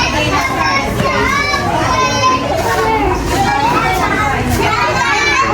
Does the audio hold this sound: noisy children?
yes